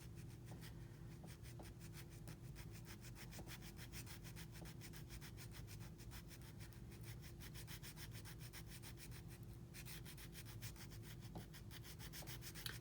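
Steady, fine rasping of a nail file worked back and forth over a gel nail extension, a quiet, close scratching rhythm continuing without a break and with no talking.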